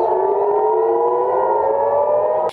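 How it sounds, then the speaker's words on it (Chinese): An air raid siren sounding over Tel Aviv during a rocket attack, a loud sustained wailing tone that slowly rises in pitch and then cuts off abruptly, with no voices. "以色列台拉维夫也因为遭遇火箭炮来袭警报大作"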